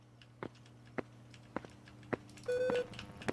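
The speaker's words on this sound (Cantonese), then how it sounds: "聽唔聽到好似有啲嗶嗶聲喎" Faint, evenly spaced ticks about every half second, joined by one short, steady beep tone near the end, all quiet and with no talking.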